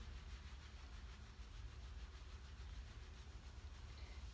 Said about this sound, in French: Je frotte le bas du dos.